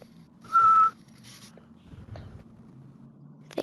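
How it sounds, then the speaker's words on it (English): A single short, high, steady whistle sounds from a participant in an online meeting, followed by faint rustling, a few light taps and background noise. "Who's whistling? Please stop."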